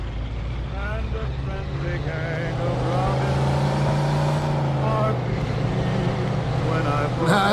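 Car rushing in from the right in the video game Mafia 2, an engine rumble and tire roar building steadily under a voice, loudest toward the end.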